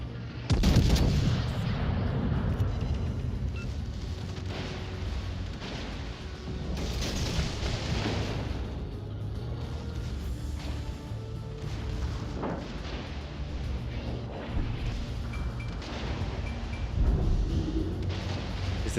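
Warship cannons boom again and again in World of Warships: Legends, heavy deep blasts at irregular intervals over a constant rumbling battle backdrop, with no one speaking over them.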